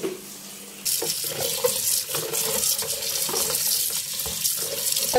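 Tap water gushes steadily into a sink as bitter gourd is washed, starting abruptly after a moment of quiet and running loud and close with light splashing and handling noises.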